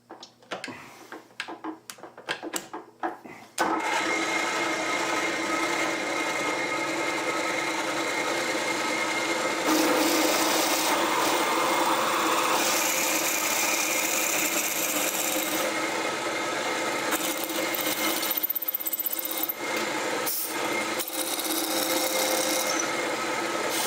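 A drilling machine with its power feed engaged gives a steady mechanical whir and grinding hum, running continuously after a few sharp clicks at the start, loud and close with no talking.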